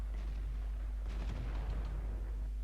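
SU-8 self-propelled artillery gun firing in World of Tanks, heard as a single muffled boom with a rumbling tail over steady low engine drone, fairly faint and distant.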